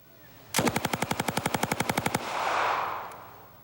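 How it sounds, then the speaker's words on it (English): A 71-year-old Thompson submachine gun empties a 20-round magazine outdoors in one loud, rapid burst of evenly spaced shots lasting under two seconds, followed by a rolling echo. "That was a 20-shot clip gone in 1 2/3 seconds."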